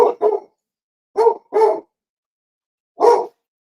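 A pet dog barks in short sharp bursts: two quick barks, a pair of longer ones, then a single bark after a pause, loud and close in an otherwise quiet room.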